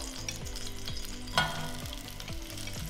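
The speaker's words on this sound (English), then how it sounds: "Then we add the vegetable." Vegetables stir-fry in oil for Asian-style ramen with a soft, steady sizzle, joined by repeated rhythmic scraping strokes and one sharp clink near the middle.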